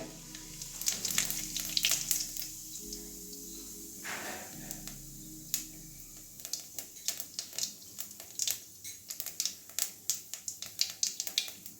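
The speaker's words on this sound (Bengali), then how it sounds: "তেলের মধ্যে গোটা জিরে ফোড়নে দিয়ে দিচ্ছি গোটা জিরে" Whole cumin seeds hit hot oil with a bright sizzle, then settle into rapid popping and crackling that grows sharper and more scattered toward the end, with no talk.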